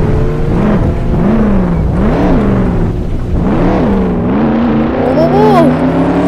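A car in the Roblox game Jailbreak revving up and down in repeated rising and falling engine whines, loud and close, with a voice talking over it.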